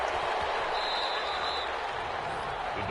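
A home stadium crowd cheers and roars in Madden 21 football, a dense, loud, sustained wash of noise filling the whole moment without pause.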